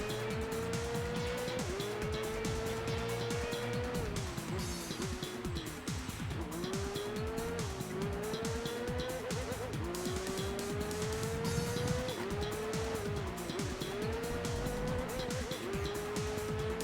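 Race cars in the Enthusia Professional Racing video game, a McLaren and an R390 among them, with a steady loud engine drone and repeated rising gear-shift whines, plus occasional tire squeal, continuous throughout.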